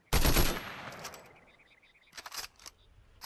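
A rapid burst of gunfire from a weapon in Fortnite, loud and close, fading into a short tail, then a few sharper follow-up shots, with no talk.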